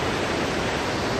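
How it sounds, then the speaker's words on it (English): Loud waterfall pouring in a steady, dense roar of rushing water, close and continuous with nothing else audible. "I know it's loud, but check this waterfall."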